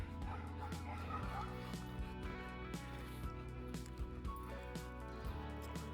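A small puppy yips and barks repeatedly with thin whimpers mixed in, heard faintly over a busy background of music and room noise during a dog social training session.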